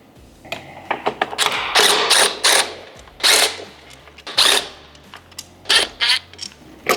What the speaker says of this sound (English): We're going to remove the 4 screws from the radio